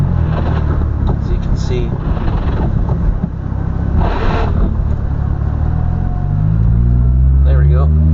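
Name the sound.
manual car engine revving at high RPM in first gear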